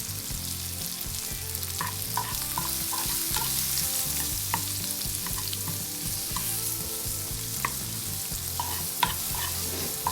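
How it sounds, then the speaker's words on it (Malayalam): Asafoetida being stirred and sautéed in hot oil in a pan while making mango pachadi, a continuous loud sizzle and fry with scattered small pops and the clatter of a spoon against the pan. "ഇത് നന്നായിട്ട് വഴറ്റുക."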